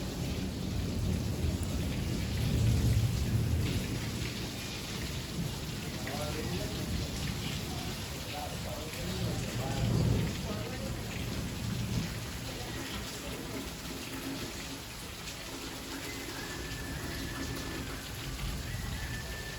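Heavy rain pours steadily through the whole stretch, with low rumbles of thunder swelling twice, and faint voices murmuring under the downpour.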